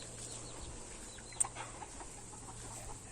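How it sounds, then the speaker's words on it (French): A hen with her chicks gives soft, faint clucks over a steady low background hum, with one brief sharper sound partway through. "Et ma poule avec ses poussins qui fait très attention à eux comme la prunelle de ses yeux."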